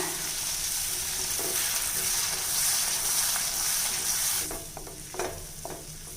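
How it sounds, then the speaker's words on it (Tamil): Veld grape thokku, loosened with tamarind water, sizzles and is stirred in a frying pan. A steady loud fry runs for several seconds, then gives way to quieter scraping strokes of the spoon. "இப்போ இதை நல்லா கலந்து விட்டுக்கலாங்க"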